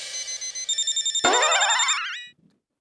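A telephone rings indoors with a loud, pulsing electronic tone that swells into a warbling ring, then cuts off abruptly, with no talking.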